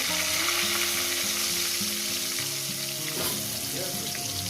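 Potatoes fry in a pan for a chicken dish, a loud continuous sizzle with crackling oil close by, a steady tonal hum running underneath and no voices.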